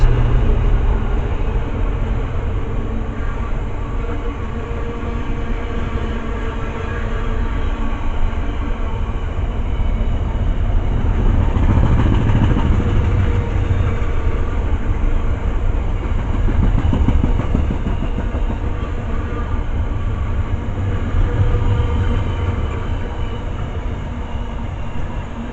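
Class 66 locomotive 66588 hauls a train through North Wembley station, a long, loud, steady roar and rattle of wheels and wagons that swells midway and carries on throughout.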